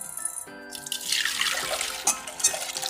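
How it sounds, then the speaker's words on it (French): After a faint hum cuts out, a milk mixture splashes and trickles steadily into a saucepan, with a few louder spatters near the end. "Et on reverse le tout dans la casserole."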